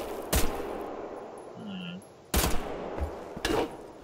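Gunfire in the video game Wolfenstein: The Old Blood rings out as a few sharp, loud shots spread over four seconds, with brief quieter game sounds between them.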